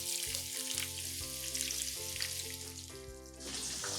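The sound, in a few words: shredded onions frying with whole spices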